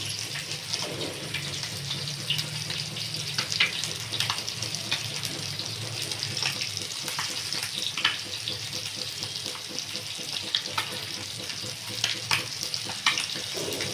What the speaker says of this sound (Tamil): குழம்பு இப்போ கொதிச்சிருச்சு. இப்போ நம்ம ரிமைனிங் மீன் எல்லாம் இதில் போட்டுடலாம்.